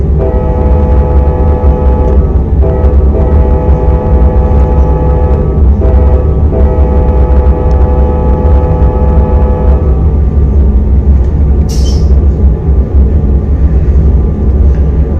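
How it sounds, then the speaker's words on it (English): Amtrak P42 passenger diesel locomotive in the Run8 train simulator, a steady loud engine drone with tonal horn-like harmonics cutting in and out over the first ten seconds, then continuous rumble. "The actual sound from a freight train, or not freight train, but passenger P42."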